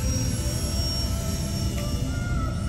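Small Eachine mini P-47 RC warbird model plane flying without gyro stabilisation, a steady high electric motor whine with constant buzzing drone throughout, fairly loud and close, no voices.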